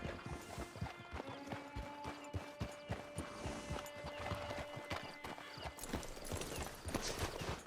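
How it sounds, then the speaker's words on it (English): A horse in the video game Red Dead Online clip-clops steadily at a walk, with rhythmic hoofbeats throughout, faint tack and harness rattles, and a soft whinny. "It's your horse."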